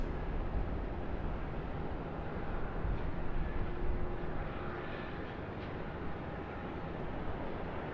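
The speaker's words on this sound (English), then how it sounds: "Air New Zealand A321neo from Auckland." An Air New Zealand Airbus A321neo arrives from Auckland at Sydney Airport, its steady, moderately distant jet roar holding through the whole stretch and swelling slightly midway.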